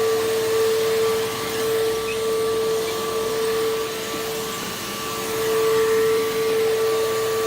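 A PowerForce vacuum cleaner, fed by an extension cord, runs continuously with a steady, even motor drone and a faint whine on top, and no voices.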